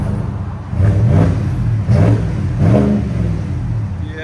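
A 2023 GMC Yukon Denali with a 6.2L V8 and Flowmaster Flow FX cat-back exhaust revs in three deep, throaty bursts, each rising and falling, heard up close without talk.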